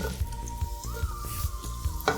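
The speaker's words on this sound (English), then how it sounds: "The onion can go into the pan. I'll just put in a little bit of canola oil." Onion sizzling in canola oil in a pan, a steady close frying hiss with faint periodic clinks and a low background hum throughout.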